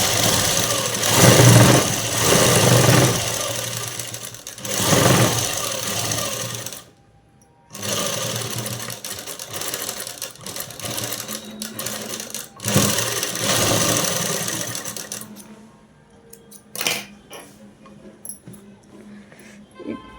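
Sewing machine stitching the collar of a jeans shirt, running in loud rapid bursts separated by brief pauses, then quieter intermittent stitching and clicks toward the end.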